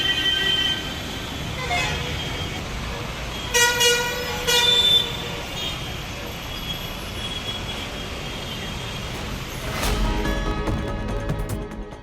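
Heavy traffic crawls on a congested national highway near Singaperumal Koil, with a steady drone of engines and horns tooting in short bursts, including louder horn blasts a few seconds in and again near the end.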